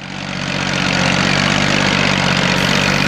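A Massey Ferguson 1035 DI tractor drives a rotavator in a field, a loud, steady diesel drone with a churning low rumble that swells up at the start and then holds evenly.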